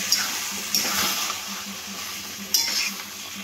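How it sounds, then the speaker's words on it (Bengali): Vegetables stirred into fried tempering spices in a pan for labra, a close sizzle under scraping spatula strokes, with a couple of sharp metallic clinks against the pan. "এবার সবজিটা দিয়ে ভালো করে নাড়াচাড়া করে নেব ফোড়নের সাথে"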